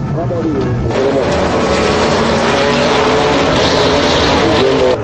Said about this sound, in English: the Pro headlights are on at the rolling start, and away they go